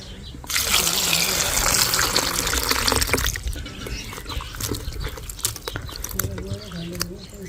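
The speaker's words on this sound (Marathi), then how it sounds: "तर पाण्यात धुवून टाकू." Strawberries being rinsed in a bowl of clean water, with a loud gushing, splashing wash for about three seconds before it settles into softer trickles and handling sounds, while someone talks over it.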